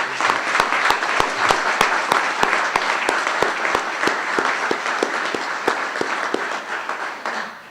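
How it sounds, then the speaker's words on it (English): Audience applauding at the investiture ceremony of a judge, a steady dense wash of many hands clapping with sharp individual claps standing out, sustained for several seconds before tapering off at the end. "I, again, will ask for a round of applause for you"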